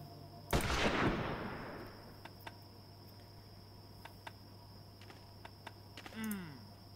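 A single loud rifle shot with a rolling, decaying echo in the hunting video game Hunting Unlimited 2010, followed by faint clicks and a quiet game tone over a low steady hum.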